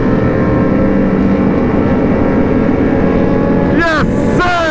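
Motorcycles, including sportbikes and Can-Am Spyders, rumble loudly and continuously during a group rideout, with a steady engine drone close by and a couple of sharp revving sweeps near the end.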